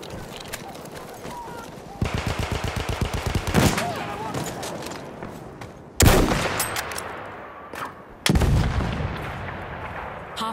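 An anti-tank gun firing in the Battlefield 1 video game: heavy booming blasts arrive in sharp bursts amid rapid machine-gun rattle and echoing battle noise, loud and close, with several separate salvos spread across the scene.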